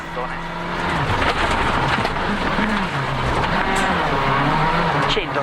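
Mitsubishi rally car driven flat out in WRC 2005 on a Japan gravel stage: a steady high engine drone with pitch rises and dips through gear changes, heard from onboard, with a voice talking over it.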